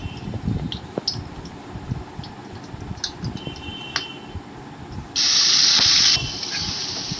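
Whole garam masala spices hit hot mustard oil in a kadai, giving a steady close hiss and crackle with a louder, harsher sizzling burst near the end.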